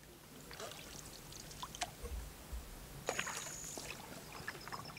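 Soft canoe paddling on the Tur River, faint intermittent splashes and water trickles over a quiet outdoor background, with a couple of brief drips and knocks.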